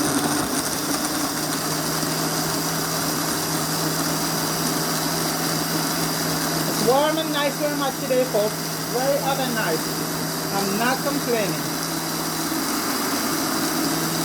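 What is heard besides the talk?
blender running, blending souse ingredients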